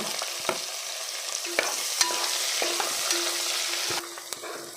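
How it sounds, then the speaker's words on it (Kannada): Onions fry for vangi bath in a pan, giving a loud, steady sizzle with repeated sharp scrapes and taps of the spatula as they are stirred, close up with no talking. "ಇದಕ್ಕೆ ನೀರುಳ್ಳಿ ಹಾಕ್ಕೊಳ್ಳುವ. ನೀರುಳ್ಳಿ ಫ್ರೈ ಮಾಡಿಕೊಳ್ಳುವ."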